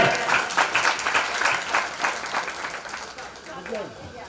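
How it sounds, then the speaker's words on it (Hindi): An audience at a Shiv Mahapuran religious discourse in Awas Vikas, Jhansi bursts into loud, sustained clapping, dense and close, swelling early and slowly thinning out. "सब लोग मम्मी पापा के सम्मान में एक बार जोरदार ताली बजाइए"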